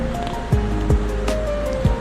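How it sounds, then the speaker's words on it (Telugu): Water pours steadily into a cooking pot of vegetable pulao rice, a continuous rushing splash with a few soft knocks and no talking. "ఇప్పుడు ఇందులోకి మనం రైస్ సరిపడే అన్ని వాటర్ వేసుకోవాలి."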